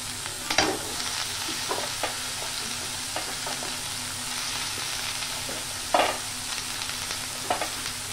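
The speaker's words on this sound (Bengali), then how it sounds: "তো বেগুনগুলো এবার ভাজা ভাজা করে নিয়ে ভালো করে, তারপরে মশলা দেবো।" Eggplant pieces sizzle and fry in a hot pan on a strong flame for an onion-and-tomato dish, a steady close crackle broken by several sharp stirring scrapes and clatters.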